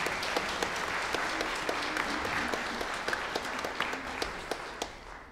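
A concert audience at a Culture Day choir concert held by the Vrhnika disability society claps in steady, dense applause with sharp individual claps, sustained for several seconds before tapering slightly.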